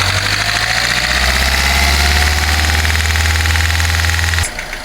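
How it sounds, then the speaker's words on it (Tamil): A Hyundai i20 engine held steady at 2500 rpm gives a loud, continuous droning hum with a buzzing edge close by, then drops off abruptly just before the end. "இப்போ அடுத்தது வந்து 2500 ஆர்பிஎத்தில் கன்சிஸ்டாக மெயின்டைன் பண்ணுறேன்."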